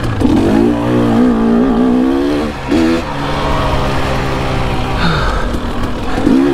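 A dirt bike engine revs hard on Utah singletrack, its pitch climbing and dipping through repeated throttle bursts, loud and close with a brief lull midway.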